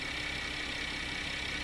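A 2014 Porsche Cayenne with a 3.6-litre V6 idles steadily, a constant close engine drone with a faint high whine and no change in pitch.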